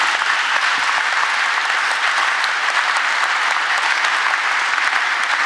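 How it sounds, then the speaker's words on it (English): A dense, steady burst of audience applause fills a university inauguration ceremony, loud and close, with clapping blending into a continuous roar. "yes, it's okay to applaud"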